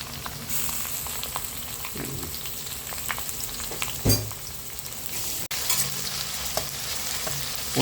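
Ginger garlic paste stirred and fried in a pan while cooking Kerala-style fish moilee, a close steady sizzle with scraping spatula strokes and a few sharper clinks.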